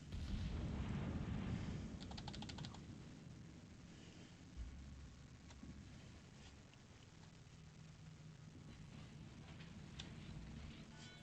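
Naval guns boom in a naval combat video game, with heavy, rumbling salvos and explosions layered over a continuous low battle din, one loud thump standing out midway, all fairly distant and muffled.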